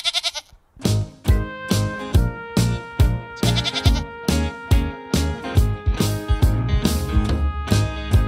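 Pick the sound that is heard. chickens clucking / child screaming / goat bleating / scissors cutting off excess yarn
goat bleating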